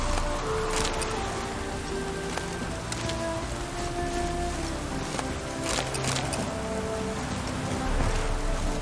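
Steady rain falls across the open world of The Witcher 3: Wild Hunt, an even hiss of drops on surfaces with a few sharper patters and faint low rumbles underneath.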